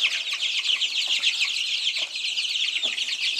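Young chicks in an indoor brooder cheep and cluck in a dense, continuous chorus of high chirps, close and steady, with faint scratching and movement beneath and no talking.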